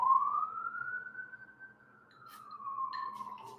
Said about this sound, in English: I got a siren going by.